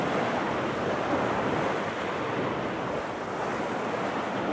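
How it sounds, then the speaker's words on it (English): Steady ocean waves wash onto a beach on a cloudy, rainy day, a dense continuous surf roar with some wind noise on the microphone and no voices. "So, arrived at the beach here in a very cloudy slash rainy day"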